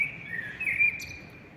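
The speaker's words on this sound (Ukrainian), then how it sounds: "Слухаємо, як співає шпак." A starling sings in a garden among conifers and cherry trees, a steady thin whistling warble with a brief higher trill near the end, moderately close over a low rumbling background.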